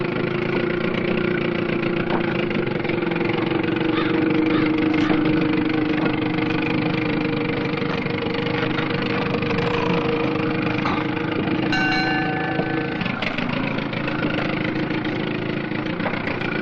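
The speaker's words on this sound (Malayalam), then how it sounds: "താണ്ട ബോട്ട് വന്നു." A boat engine idles steadily nearby, a constant mid-pitched motor drone with a faint rattle, running alone without talk for the whole stretch.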